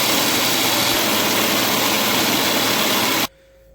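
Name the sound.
mixer grinder (mixie) grinding rice for appam batter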